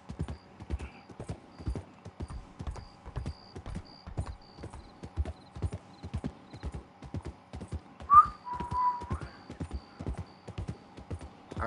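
Steady, rhythmic hoofbeats clip-clop along throughout in the video game Red Dead Redemption 2, with a horse's brief whinny partway through and faint whistling tones over a quiet background.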